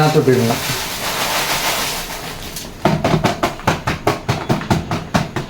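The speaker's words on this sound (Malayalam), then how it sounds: "ഇതങ്ങോട്ട് ഇട്ടിട്ടുണ്ടല്ലോ ഇതിന് നമ്മൾ ഇളക്കണം ഇളക്കി കൊടുക്കണം" Beaten rice flakes (aval) being stirred in a large uruli pan: a hissing sizzle at first, then a steady series of rhythmic scraping strokes, close and moderately loud, with a brief murmur of voice early on.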